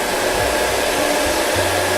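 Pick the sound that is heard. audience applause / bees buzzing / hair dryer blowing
hair dryer blowing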